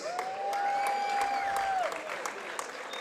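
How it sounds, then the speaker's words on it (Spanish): Crowd applause at a boxing event as a fighter is introduced, continuous clapping under a long sustained whistle-like tone, moderately distant with faint crowd noise. "Fuerte el aplauso, él es Diego Pérez."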